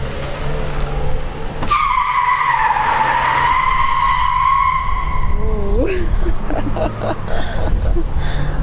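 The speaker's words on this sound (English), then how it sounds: "that was local Saudi driving right there, drifting" Car drifting on a Saudi road: a long, loud, sustained tyre squeal with a wavering pitch over a steady engine roar, ending in a brief chirp and continuing rumble.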